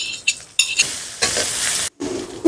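Onion frying in a pan with coriander, cumin and green chilli, a loud crackling sizzle interrupted by a few stirring scrapes and a brief gap.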